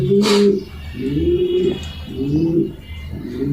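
Racer pigeons, a male and female pair, coo up close in deep, rolling phrases that repeat about three times at a steady pace, with a brief flutter near the start.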